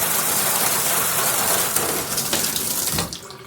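Water spraying from a handheld shower head in a home bathroom, a steady loud hiss of running water that eases toward the end, with no talking.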